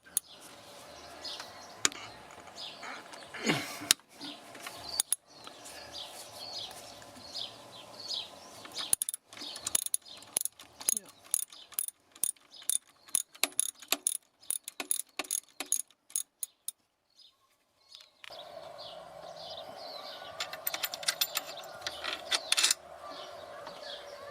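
A ratchet clicks rapidly in repeated bursts while breaking loose a bolt on a BMW 318iS oil filter housing, sharp close metallic ticks with pauses between strokes, faint birdsong in the background.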